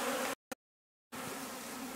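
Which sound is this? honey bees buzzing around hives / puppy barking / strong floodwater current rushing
honey bees buzzing around hives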